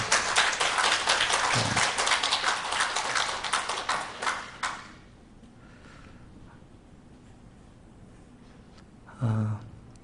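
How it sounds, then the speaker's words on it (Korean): Church congregation at a New York Korean Presbyterian Sunday service applauding the choir and soloists, a dense burst of clapping for about five seconds that cuts off into room quiet, with a brief low voice near the end. "우리 찬양대하고 곡 중 솔로 해주신 분들 위해서 힘찬 박수 한번 해주십니다"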